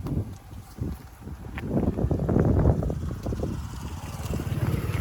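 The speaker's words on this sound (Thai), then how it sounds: "บรรยากาศแบบนี้เลยนะครับลมเย็นๆนะครับ" Cool wind gusts blow across open farmland near banana and coconut groves, a steady broadband rush with buffeting on the microphone, continuous and fairly loud throughout.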